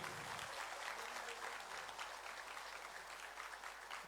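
Audience applauding the new president and general secretary of the All Arunachal Pradesh Students Union at an oath-taking ceremony in a convention hall, a dense steady wash of clapping from many hands throughout.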